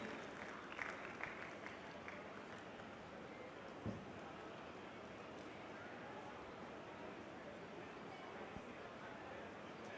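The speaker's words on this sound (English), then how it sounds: "A round of applause, ladies and gentlemen." An audience at the TEC Challenger Series esports grand finals in Bengaluru applauds, making a soft, continuous wash of clapping and crowd noise that sounds fairly distant and holds steady throughout.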